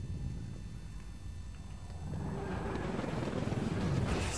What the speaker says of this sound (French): l'hélicoptère a été descendu par Eugène